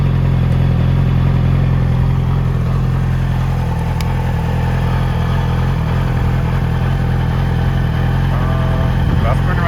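A 2008 Yamaha R6 sport motorcycle engine runs steadily and loudly close by, a continuous low rumble with no distinct rev peaks.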